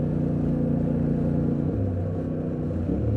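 A Yamaha Tenere 700 motorcycle engine drones steadily while riding on a street, its low pitch dropping partway through as the rider shifts gears, with a continuous rumble and no voices.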